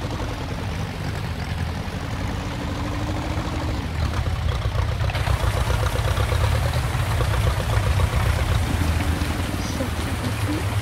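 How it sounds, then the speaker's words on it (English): Old Ford farm tractor engine running steadily while backing up onto a trailer outdoors, a constant low rumble with broadband noise throughout, close and fairly loud, with no clear pauses. "We're actually gonna back this tractor right up onto our trailer."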